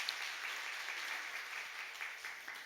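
A church congregation at a Bupyeong Jeil Presbyterian family worship service claps together in sustained, fairly soft applause that carries on steadily throughout.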